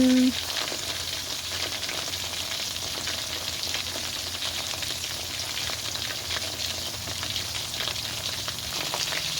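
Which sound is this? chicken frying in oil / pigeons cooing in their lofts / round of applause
chicken frying in oil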